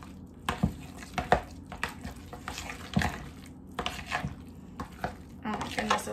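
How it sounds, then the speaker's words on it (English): Guacamole with tomato and onion being mixed by hand in a bowl, giving soft, irregular wet stirring and scraping sounds with occasional light taps against the bowl, close and fairly quiet, with no talking. "now we have all the ingredients that I normally put in guacamole, so I'm going to mix it on up"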